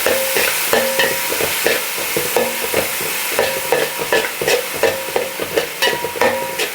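Chopped shallots and spices fry loudly in a pan for a crab roast, with a spoon stirring them in repeated scraping strokes over a constant close sizzle.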